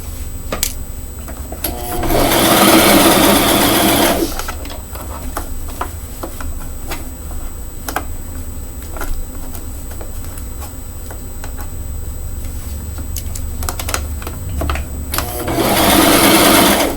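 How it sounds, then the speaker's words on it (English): A sewing machine stitches pleats on a pink frock in two loud, steady bursts of rapid mechanical whirring, with quieter clicks and handling noise between runs. "I don't know why I choose to sew the pleats upside down"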